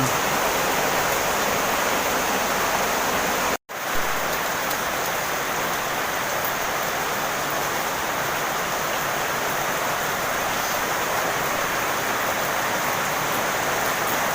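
Steady rain pouring down, a dense, even hiss filling the clip throughout, broken once by a momentary dropout near the start, with no voices.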